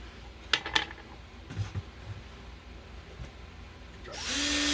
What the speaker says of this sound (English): this is going to be a fun one to drill